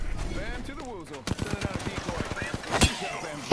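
Rapid bursts of gunfire from weapons in the Apex Legends firing range, a sharp rattling string of close shots after a brief voice, ending on a louder final crack.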